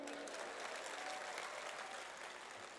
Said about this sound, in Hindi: अच्छे से तालियां बजाइए